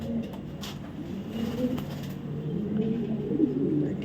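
A pure black checker female racing pigeon coos in a steady, low, continuous murmur, close by, with no voices.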